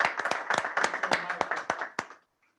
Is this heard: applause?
yes